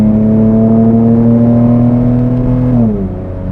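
A Lexus IS 300 engine, an automatic with a manual-style mod, drones steadily and close, then its pitch drops sharply as the car shifts down near the end.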